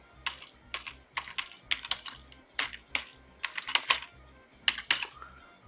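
Names being typed on a computer keyboard in short, irregular bursts of key clicks, close and moderately quiet, with slightly uneven pauses between keystrokes.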